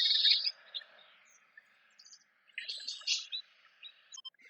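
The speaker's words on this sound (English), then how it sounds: "Got my little birdie sounds going on" Small birds chirp and trill in an outdoor fairy garden, high bright calls coming in scattered bursts against a faint steady insect-like hum, moderately near and fairly soft.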